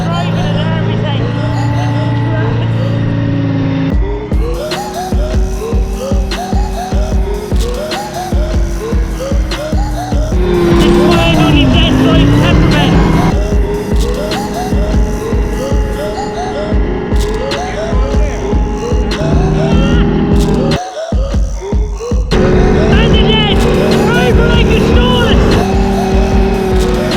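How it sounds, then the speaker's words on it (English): An army tank's engine runs continuously while it drives, a loud, close, rumbling drone with shifting pitch and grinding mechanical texture, and voices speak intermittently over it. "driving an army tank"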